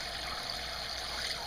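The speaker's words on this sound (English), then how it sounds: "It has a small pump that goes into basically like a bucket or a sink or anything you want to use, and then pumps out a nice rate" Water from a Zodi propane water heater's small pump streams steadily into a bucket or sink, a continuous close trickle with no pauses.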